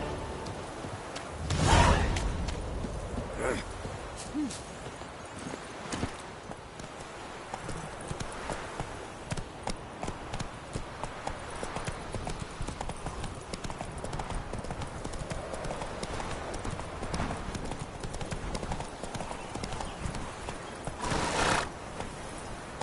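A horse in the Witcher 3 video game gallops with a steady, close clip-clop of hooves. A loud whinny comes near the start and another near the end.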